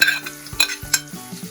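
Green chilies frying in a pan for street-style samosa filling, heard as sharp stirring scrapes and clicks over a light sizzle, with several distinct spoon strikes in quick succession.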